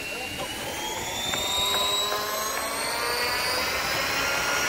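A small model airplane engine whines steadily through a test flight at an outdoor ceremonial event, its high tones gliding slowly upward and downward as the craft moves, heard without speech.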